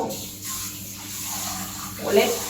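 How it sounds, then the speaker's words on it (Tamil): Lentils are rinsed in water, making a steady close splashing and swishing wash that swells briefly near the end. "நம்ம பருப்பு அலசி வச்சிடும்."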